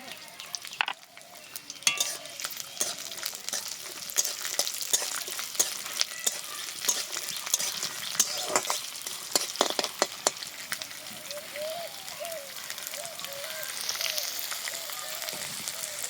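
Dried red chillies, garlic cloves and nigella seeds frying in hot oil give a dense close crackling sizzle, with frequent sharp spatter pops and stirring clicks throughout, continuous and lively; faint low talk sits at the edges.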